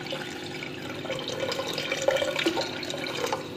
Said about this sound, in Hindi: 5 कटोरी मैंने पानी डाल दिया है, मैं कुकर में बना रही हूँ